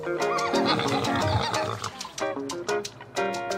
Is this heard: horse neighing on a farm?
yes